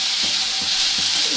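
Ground green chili, onion, ginger and garlic paste fries in hot oil with a steady, loud sizzling hiss and faint soft stirring scrapes underneath.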